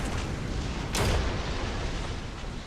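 A T-34 1942 tank cannon in War Thunder fires a single sharp boom about a second in, rising out of a steady, loud roar of engine and battlefield noise.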